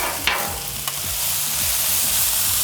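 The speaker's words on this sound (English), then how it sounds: "It's a lot of stir fry" Mango chicken fried rice stir-frying in a hot pan, a loud, dense sizzle with scraping and tossing strokes from a utensil, close up and continuous, with no talking.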